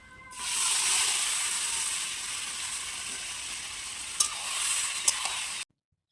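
Marinated chicken drops into hot oil with whole spices, setting off a loud, dense hiss that rises quickly and holds steady, with a couple of sharp clicks near the end before it cuts off abruptly.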